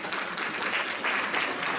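Audience at a school graduation ceremony clapping for a speaker, a brief burst of thick, even applause from a crowd, moderately loud and without speech.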